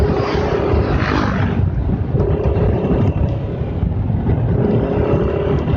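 A 2020 Yamaha Nmax scooter runs with a loud, steady engine drone and wind rush, likely while riding on a fuel economy test, continuous with no talking.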